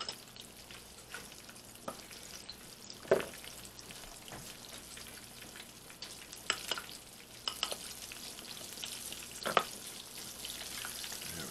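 Breaded chicken for chicken parmesan frying in a pan, a steady close sizzle crackling throughout with occasional louder pops and stirring sounds, and no talking.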